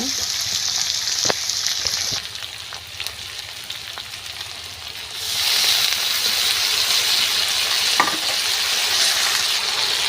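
Oil sizzles steadily in a pan as a ginger-cumin paste goes in for a fish curry, the frying hiss swelling louder and brighter midway, with a few light clinks of a spoon against the pan.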